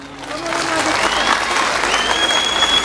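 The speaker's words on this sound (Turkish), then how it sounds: "Bu alkış az geldi Tülay" A crowd applauding loudly and steadily, a dense wash of many hands clapping throughout.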